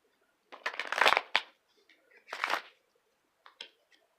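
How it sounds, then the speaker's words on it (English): Tarot cards are shuffled in a few quick riffling bursts, crisp and close, followed by softer taps as the deck settles. "Just a couple more shuffles."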